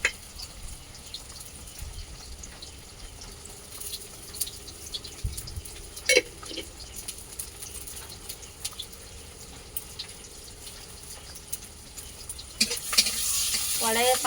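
Onion and panch phoron sizzling in oil in a wok, a soft continuous frying hiss with occasional scraping stirs and clinks, rising louder toward the end.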